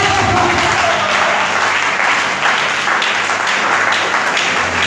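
Dense congregational applause fills the whole stretch at a church worship service acclaiming the Lord, a steady loud wash of many hands clapping with crowd voices mixed in.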